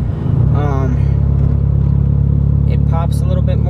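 A Honda Del Sol engine with low-compression pistons, freshly rebuilt, runs on the first drive with a steady low rumble. It stays close and continuous while a person talks over it.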